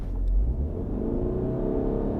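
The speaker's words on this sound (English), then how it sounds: "Start the engine. Brake torque." A Ford Escape Titanium plug-in hybrid launches from a brake-torque start, its engine note rising in a steady, close rumbling whir as the SUV accelerates, with no voices over it.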